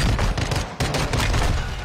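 A burst of gunfire in a multiplayer shooter game, loud and close, with several sharp overlapping reports followed by a brief gap and more rapid shots.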